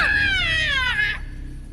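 A single drawn-out cat meow from the anime Akudama Drive, loud and close, sliding down in pitch before cutting off into quiet.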